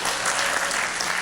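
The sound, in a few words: applause for the volunteers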